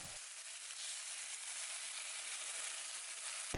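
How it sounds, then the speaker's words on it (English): Beef sears in hot oil in a skillet: a steady, even sizzle holds for several seconds, close and unbroken, with no talking over it. "Heat a skillet with oil, then wait until it is steamy hot. Quickly sear the beef."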